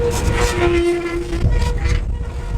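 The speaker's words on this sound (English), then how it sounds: "We're gonna turn this conveyor on, make sure everything sounds... That does not sound okay" A faulty conveyor runs loudly with a deep rumble and a strained tonal squeal, rough and uneven throughout.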